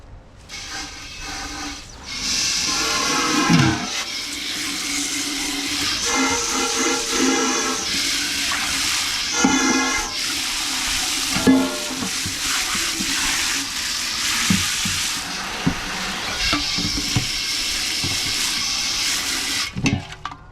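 Water runs steadily while large kettles are rinsed out in a home, a continuous close rushing and splashing with a few louder clunks and surges throughout.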